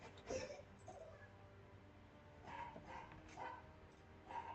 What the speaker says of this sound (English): why do they have to bark?